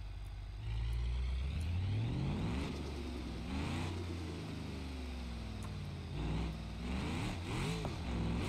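Car engine and turbo sounds in the video game BeamNG Drive, repeated revving that rises and falls with whistling, sweeping tones over a deep rumble, loud and close, without speech.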